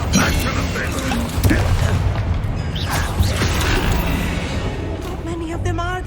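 A Confringo spell explodes during a Hogwarts Legacy duel, a series of booming blasts and crackling bursts amid dense combat noise, with shouted voices over the top.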